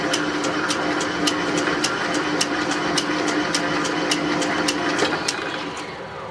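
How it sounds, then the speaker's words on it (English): Metal lathe runs in reverse with a steady mechanical whir and evenly spaced ticking, continuous and fairly loud, easing slightly at the end. "Since my lathe does not have a threading dial, I just have to reverse it."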